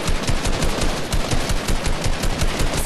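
Loud, continuous machine-gun fire in Fortnite, a fast steady stream of close shots with no pause across the short stretch.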